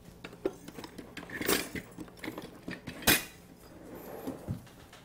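A spoon stirring sugar and spices into hot liquid for a healthy kids' treat, with scattered clinks and scrapes against the pot or cup, fairly faint with a couple of sharper knocks.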